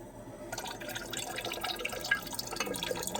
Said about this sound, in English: let's throw in 40 milliliters of red fuming nitric acid